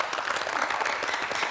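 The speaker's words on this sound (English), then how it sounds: "him a round of applause, please?" A studio audience on the set of the Nigerian game show Family Feud applauds, a dense, steady burst of many hands clapping close by, with no voices over it.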